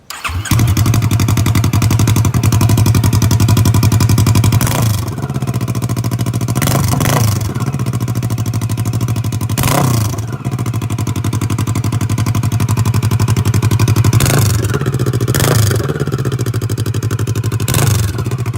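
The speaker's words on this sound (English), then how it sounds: "Next, we're going to take a listen with open headers." A 2016 Kawasaki Versys 650 motorcycle idles loud and close on open headers with no mufflers, a steady low throb broken by several sharp throttle blips that rise and fall.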